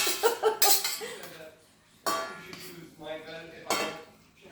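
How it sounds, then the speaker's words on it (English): Farfalle pasta tipped into a pan with sausage, tomatoes and vegetables and stirred, giving clattering clinks and scrapes of utensil on metal in short bursts, close and moderately loud, with talk in between. "I'm going to add the farfalle, much more delicately"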